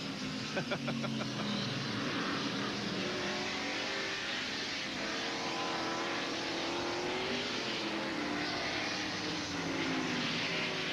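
A NASCAR Winston Cup race car roars past on the track during the 1991 Banquet Frozen Foods 300, a loud sustained engine drone with rising and falling pitch as it passes, and faint commentary underneath.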